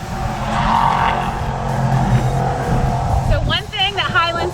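Fast race cars around Sebring in Highlands County, Florida, with a loud roaring engine and tire noise sweeping past, followed by several short squealing skids near the end.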